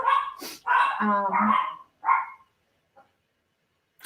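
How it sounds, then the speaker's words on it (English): Several sharp dog barks close by, with a yip among them, then quiet with a faint short sound near the end. "Sorry for the barking dogs in the background."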